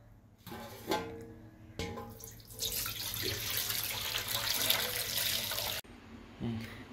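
Reddish water poured off settled wheat starch in a container while making kurdai, a splashing trickle that grows into a steady stream for a few seconds and then stops, close by.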